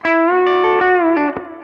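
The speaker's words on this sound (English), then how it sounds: "So you hear that ghost note?" A distorted electric guitar line with heavy effects, sustained notes sliding between pitches, with a short muted percussive pluck near the end.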